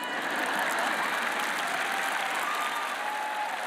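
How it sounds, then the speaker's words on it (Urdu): Dense, continuous applause from a large audience at a sermon, a steady even wash of clapping that holds at the same level throughout. "تالیوں کی گونج کم ہے."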